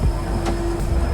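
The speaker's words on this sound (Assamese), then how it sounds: "এতিয়া ট্ৰেইন লাহে লাহে চলি গ'লে ৱাৰ আছে আৰু ইফালে লাহে লাহে চলি গৈছে" A train moving slowly from North Lakhimpur to Dibrugarh, heard from on board as a steady low rumble with a faint tonal hum and a brief squeal.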